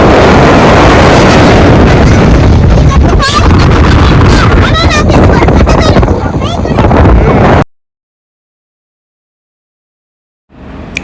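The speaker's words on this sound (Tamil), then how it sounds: "செம காற்று இருக்குது." Strong wind buffets the microphone at a beach, a loud continuous roar and rumble with voices talking over it for about seven seconds before cutting to silence, then a brief return at the very end.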